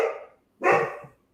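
Two short, loud barks from pet dogs nearby, the first tapering off and the second fuller after a brief pause, with no talk.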